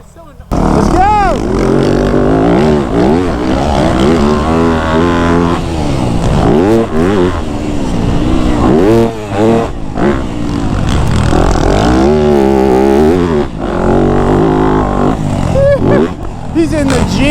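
A 450cc motocross motorcycle ridden hard on a dirt track, loud close engine revving and roaring in repeated rising and falling bursts, with people talking over it.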